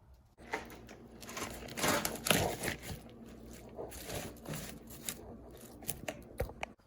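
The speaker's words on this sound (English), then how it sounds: "so I'm cutting all the green onion in here" Green onions sliced with a knife or scissors, making a series of quiet, close crisp snips and rustles in an irregular rhythm, with no speech.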